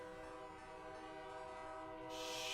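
Train horn or whistle blowing in a long sustained tone over the rumble of a passing train, loud and steady, swelling near the end.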